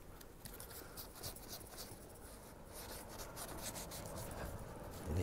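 Sandpaper rubs against a yellowed Mazda Axela headlight lens in soft, continuous strokes, a quiet close-up scratching with no talk.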